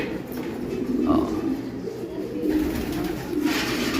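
Racing pigeons in a loft in Ilocos coo with low, repeated, rolling calls, steady and close, under a continuous background murmur of voices.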